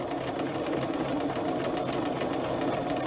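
Steady, close hum and rapid needle chatter from a sewing machine stitching down the facing of a patch pocket, running without a break throughout.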